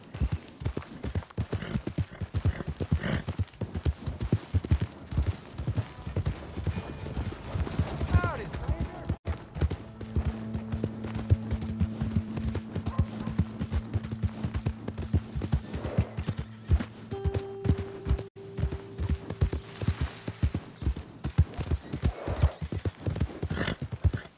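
Horse hooves clip-clop steadily through a ride in Red Dead Redemption 2, mixed with game music and occasional talk over the rhythmic footfalls.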